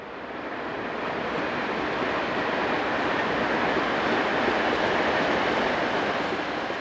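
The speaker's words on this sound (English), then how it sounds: "it is the turn of 11648 to bring its train to a stand" Freight train hauled by locomotive 11648 rolling to a stand, a steady, loud broadband roar of wheels and wagons that stays even and continuous throughout, with no voices.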